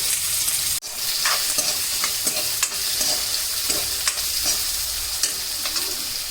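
Chopped onions go into hot oil with tempering spices, giving a loud, continuous sizzle close by, with scattered scrapes and taps from stirring and no speech.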